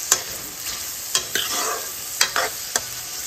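Onion frying in refined oil, a continuous bright sizzle with several distinct spatula clacks and scrapes at irregular intervals, fairly close and loud, no talking.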